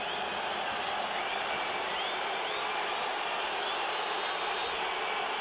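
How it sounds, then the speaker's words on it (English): A stadium crowd at a Juventus match away at the Marassi in Genoa sends up a dense, sustained roar as Del Piero comes on as a substitute, steady and loud throughout with a broadcast commentator faintly present. "So Del Piero on, you can hear the reaction from the crowd."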